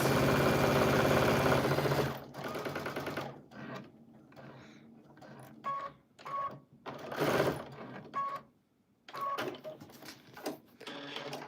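Sewing machine quilting a trapunto-style Christmas tree. It runs in a loud continuous whir at first, then in short stitching bursts with brief pauses, close by and with no talk over it.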